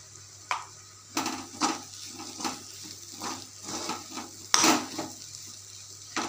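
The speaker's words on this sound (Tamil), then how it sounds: "மிளகுத்தூள் போட்டு நல்லா வதக்கணும்." A stuffing of green peas and potato with pepper powder is sautéed in a pan, with repeated scraping stirs and soft sizzling bursts, close and uneven.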